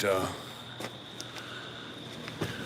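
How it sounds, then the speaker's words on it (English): Crickets chirping outdoors at night in the California mountains, a steady high-pitched trill that holds throughout, with a brief voice and a few faint footstep-like knocks. "You can hear the fucking crickets out here, dude."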